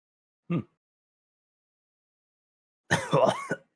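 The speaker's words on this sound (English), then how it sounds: "As I cough up blood." A short cough, a pause of silence, then a harsher burst of rough, wet coughing, close and alone.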